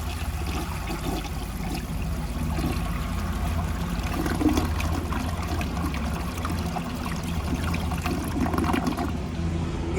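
A 1977 Universal-Rundle Citation toilet flushing, a steady rushing and gurgling of water running continuously for about ten seconds at moderate volume, fairly close by.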